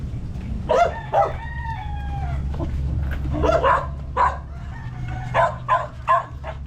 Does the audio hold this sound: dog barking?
yes